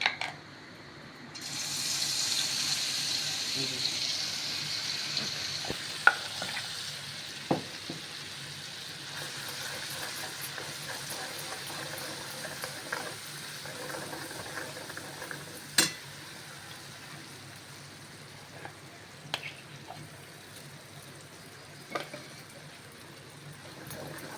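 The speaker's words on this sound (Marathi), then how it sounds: "थोडंसं मसाल्यामध्ये असं पाणी टाकून घ्यायचं, नाही तर मग तो जळून जातो मसाला।" Water hisses and sizzles as it hits frying masala in a hot pan, a steady bubbling fry with occasional sharp pops and clinks throughout.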